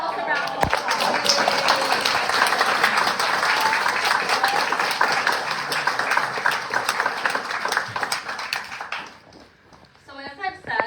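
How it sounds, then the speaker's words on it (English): A crowd at a five-year celebration event gives a long burst of loud, dense clapping that fades toward the end, with voices heard faintly under it. "Give yourselves a round of applause"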